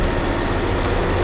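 A Chandler conveyor truck's engine running not much over idle, a steady loud low drone with a heavy rumble and no variation, heard alone.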